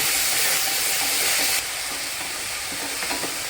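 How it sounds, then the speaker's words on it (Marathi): Spring onion greens sautéing with garlic and salt in a hot pan, a loud continuous sizzle and hiss that drops slightly partway through, with occasional stirring scrapes, close up and without speech. "तर आता व्यवस्थित असं आपण परतवून घेऊ"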